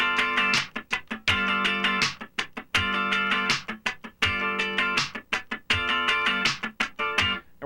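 Funk rhythm guitar plays bursts of four sixteenth-note chord strums in a row, tight bright attacks separated by brief muted gaps, repeating evenly up close with no voice over it.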